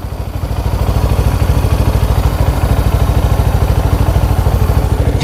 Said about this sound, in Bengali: ফিউল পাম্পটা নষ্ট হয়ে যাচ্ছে।